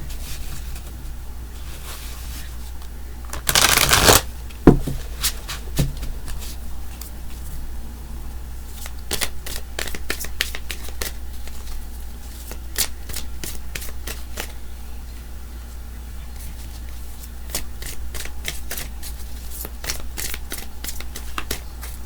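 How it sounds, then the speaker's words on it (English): A tarot deck is shuffled by hand: one loud riffle burst early on, then a long run of soft, irregular card taps and slides over a low steady hum, with no talking. "That was half my deck, so I'm going to shuffle it this way."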